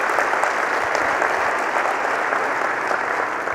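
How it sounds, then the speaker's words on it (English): Steady, dense applause from an audience at a programming conference keynote (ElixirConf 2019) fills the whole stretch, loud and continuous with no voices standing out. "They definitely deserve some applause."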